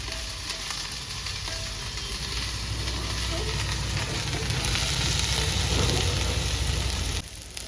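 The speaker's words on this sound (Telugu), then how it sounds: "ఈ బెండకాయలు హై ఫ్లేమ్లో పెట్టుకొని ఈయన దగ్గరగా ఉండి కలిదిప్పుకుంటూ ఫ్రై చేసుకోవాలండి" Okra fries on a high flame for bendakaya pachadi while being stirred, making a loud, dense, continuous sizzle close up with soft stirring movements throughout and no one speaking.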